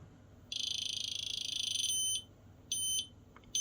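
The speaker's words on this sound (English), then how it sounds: "So 5 volts just beeping." An industrial light stack's electronic beeper, powered at 5 volts, sounds a long, piercing buzzing tone, then two shorter beeps follow after brief pauses, against a quiet background hum.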